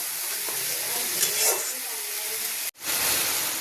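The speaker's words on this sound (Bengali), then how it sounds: "সামান্য ধনের গুঁড়ো দিলাম, দিয়ে একটু কষিয়ে নিই ভালো করে" Coriander powder and spice masala sizzle steadily in hot oil while being stirred and fried, a loud continuous hiss with a brief cut near the end.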